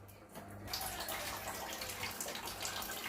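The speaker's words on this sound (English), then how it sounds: "I'm just going to give these a quick rinse so it's nice and clean" Duck breasts rinsed under a running kitchen tap, a steady close splashing wash of water that swells after the first half second and continues evenly throughout.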